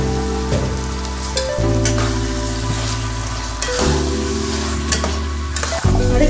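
Chana masala fries and is stirred in a pan, a steady loud sizzle with repeated scraping stir strokes throughout, over a low continuous hum.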